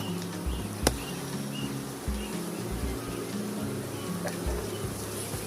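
A steady low buzzing hum of honeybees fills the clip, with a couple of brief sharp clicks over the drone.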